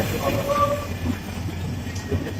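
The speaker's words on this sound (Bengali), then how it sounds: "চল ভাই ট্রেন চলে আসে" A steady, close rumble of an arriving train with faint rail noise and a brief squeal, continuous throughout without talking.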